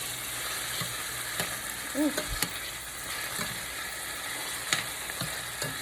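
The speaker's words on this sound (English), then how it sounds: "So while this is sauteing, look at those beautiful veggies, y'all." Mixed vegetables for a veggie stir fry sauté in a hot pan, giving a steady, moderate sizzle with a few soft clicks and brief bumps throughout.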